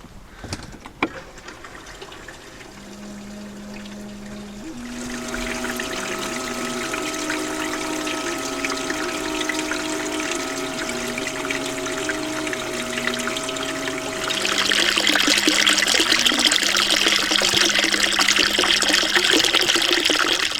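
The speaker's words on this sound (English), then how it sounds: "so I gotta turn the bilge pump on" A steady mechanical bilge pump hum runs with wavering tones, then water pumped out of a boat gushes and splashes louder toward the end, continuous with no talking.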